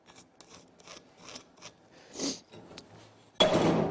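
A scribe is drawn across a metal plate for a suspension hub assembly on an Audi quattro rally kit, producing a series of short, close scraping strokes and a louder rasping pass at the end.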